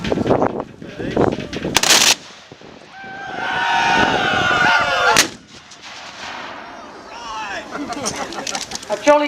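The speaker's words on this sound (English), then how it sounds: "A jolly good volley there." Reenactment soldiers fire a musket volley outdoors, a sharp loud crack near the start followed by a long rolling echo and shouting voices, with birds and crowd noise after.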